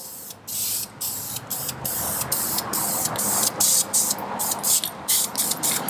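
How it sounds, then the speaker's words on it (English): A spray paint can lays a light fog coat of paint onto a wall, giving a string of bright hissing bursts, each a second or less, broken by short pauses, close and steady throughout. "So let's put the first fog coat on."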